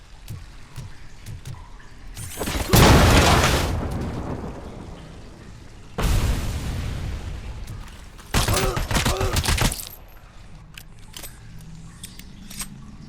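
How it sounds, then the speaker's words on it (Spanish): Explosions in the RoboCop: Rogue City video game, several loud booming bursts with crackling debris between quieter stretches of game noise. "Vale, eso explota."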